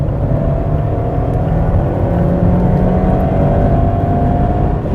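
Abarth 124 GT engine revving toward its 7000 rpm limiter, a loud steady drone with rising tonal whine held continuously and close, no voices over it.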